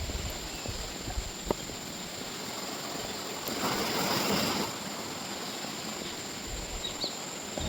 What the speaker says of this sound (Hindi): सिर्फ पानी से बहने की आवाज़ आ रही है, पानी की झरझर और हवा की सरसर।